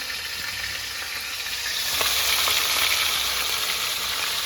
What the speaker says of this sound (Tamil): இதில் வந்து மஞ்சத்தூள் கொஞ்சம் போட்டு இதை நல்லா வதக்கிக்கலாங்க